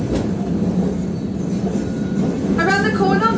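A Christchurch city tram rounds a corner, its wheels squealing against the rails over a steady rolling rumble, with the shrill squeal sharpening near the end.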